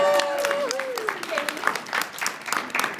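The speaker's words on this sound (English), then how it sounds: "Let's give her a little round of applause." A small audience gives a short round of applause for a director, a light patter of claps under a voice that trails off at the start.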